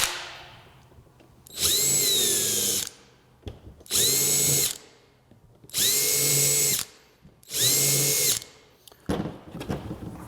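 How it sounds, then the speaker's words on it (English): A power drill countersinks holes in nail pad material in four loud, near bursts of high whine, each lasting about a second, separated by short quiet pauses. "So the next step is to countersink your holes a little bit."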